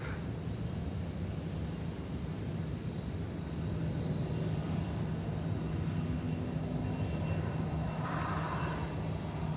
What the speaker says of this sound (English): just about to touch down from Los Angeles. Be an Airbus A321.